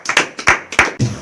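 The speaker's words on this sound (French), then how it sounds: "Applaudissons pour le Dieu de gloire." A church congregation claps hands together in praise: a quick run of loud, close, rhythmic group claps, sharp and full, with a brief burst of mixed sound at the end.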